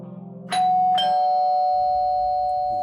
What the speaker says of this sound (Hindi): और थोड़ी देर में घंटी बजती रहती है।